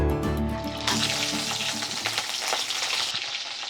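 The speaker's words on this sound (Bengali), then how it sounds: "এবার আমরা মাছটা ভেজে নিব আপু।" Rui fish frying in a hot pan, cooking a Chuadanga-style pumpkin bori curry: a steady, loud, close sizzle with bubbling oil and occasional stirring scrapes throughout, no talking.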